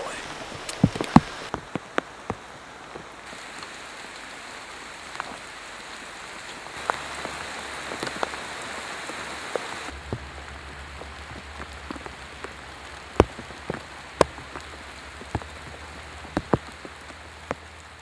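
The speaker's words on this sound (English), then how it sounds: "starting to rain again." Rain patters steadily on surfaces during a solo motorcycle trip toward the Darien Gap, with scattered louder drops striking nearby and a faint low hum partway through.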